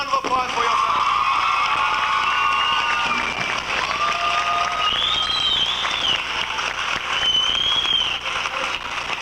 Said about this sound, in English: you deserve a wonderful round of applause for yourself